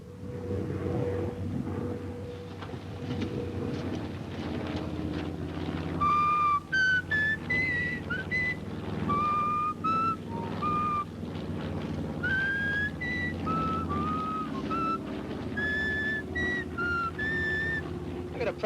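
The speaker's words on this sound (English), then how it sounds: "I gotta practice up my whistling." A man whistles a short, bouncing tune of rising and falling notes over a droning aircraft engine hum in a 1943 military training film, the melody starting midway and continuing in bursts to the end.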